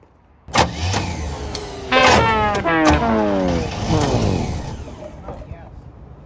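An old Chevrolet K10 pickup truck engine starts and runs loudly, its pitch climbing and falling in sweeping revs over several seconds before settling, with voices talking nearby.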